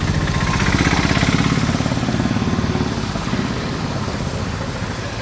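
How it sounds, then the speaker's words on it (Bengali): Cars and motorbikes drive through a flooded street at night, a steady mid-pitched engine rumble with splashing wash, loudest early and easing slightly as vehicles pass nearby without a break. "দেখো জাস্ট গাড়িগুলো কীভাবে যাচ্ছে।"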